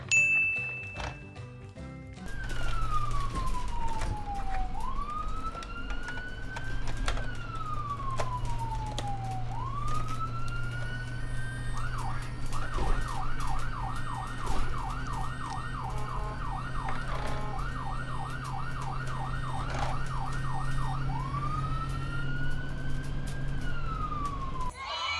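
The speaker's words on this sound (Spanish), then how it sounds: "¡Ambulancia!" A toy ambulance siren wails, sweeping up and down slowly, then switches to a fast warbling yelp, loud and steady over a low engine hum.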